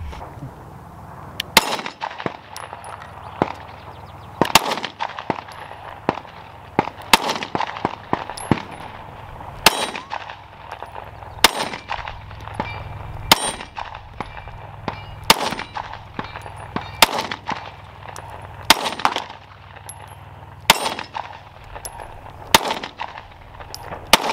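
Sharp gunshots from an M&P 22 compact pistol, fired with a 13-round magazine, crack at an outdoor range in an irregular series of about twenty loud reports, spaced roughly a second apart, with no talking between them.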